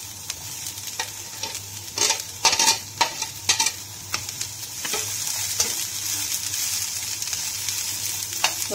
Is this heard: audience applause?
no